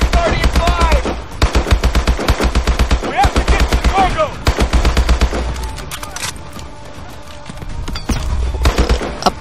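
Sustained automatic gunfire in the Call of Duty Advanced Warfare video game, in loud rapid bursts with brief pauses, mixed with game voices and other battle sounds.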